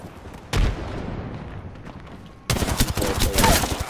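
Bursts of gunfire from an Apex Legends firefight, a sharp volley starting after a quiet lull and a second dense, loud barrage of rapid shots near the end.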